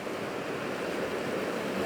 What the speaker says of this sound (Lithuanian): Čia jūra.